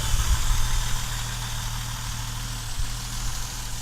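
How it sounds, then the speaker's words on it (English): A 1970 Mercedes-Benz 280SL engine idles close by after warming up, a steady low rumble with an even vibrating hum and a slight dip and swell near the end. "just rev it a couple more times now that it's warmed up a little bit"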